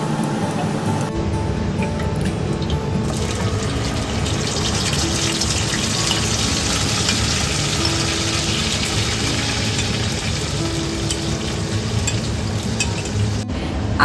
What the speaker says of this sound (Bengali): দইটা একটু কষাতে হবে বেশ কিছুক্ষণ ধরে